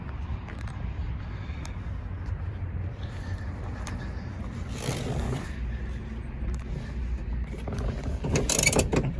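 A 1967 Mustang Fastback with a 428 Cobra Jet engine starts without any throttle, settling into a steady low mechanical rumble that swells louder near the end.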